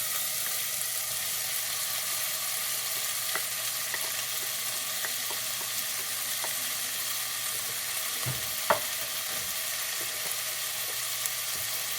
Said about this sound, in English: And now in goes the mushrooms.